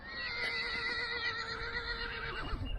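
A horse neighs in a long, loud, wavering whinny that carries through the whole clip, with a faint shuffle near the end.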